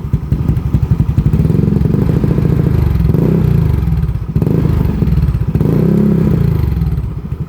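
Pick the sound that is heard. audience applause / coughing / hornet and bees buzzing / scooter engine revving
scooter engine revving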